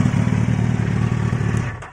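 A roadster motorcycle with an Exhaust Road Italia exhaust and 150 horsepower rumbles after starting, a loud, close, steady low engine throb that eases off near the end.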